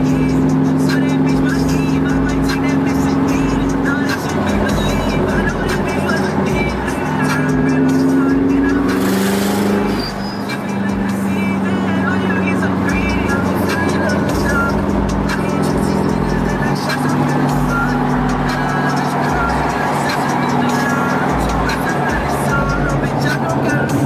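A tuned 500 hp car drives along at steady speed, its engine drone and road roar loud and continuous, with a short surge of revving near the middle.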